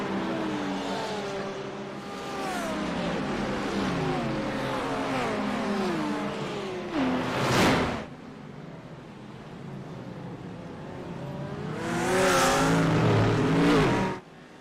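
GT3 race cars accelerate down the front stretch at Circuit of the Americas in a sim racing game, a dense field of engines droning and revving steadily, with louder passes swelling up close around the middle and near the end.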